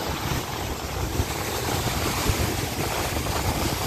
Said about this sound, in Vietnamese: Gió rất là mạnh các bạn ha, thông cảm.